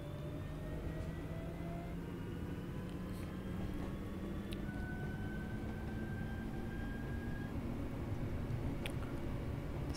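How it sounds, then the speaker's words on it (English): A Class 323 electric train in Train Sim World 4 accelerates with rising motor whines that climb steadily in pitch over a continuous low rumble, at moderate level with no talking. "Such good noises. These trains sound so good."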